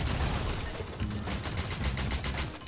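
Rapid gunfire in the video game Fortnite, a dense continuous fusillade of overlapping shots and bursts filling the whole moment at steady loudness.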